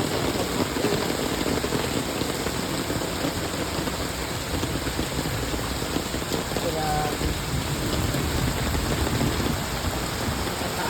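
Heavy rain drums down continuously in a thick, loud wash during a storm with flooding in Toronto, with a faint voice briefly audible beneath the downpour.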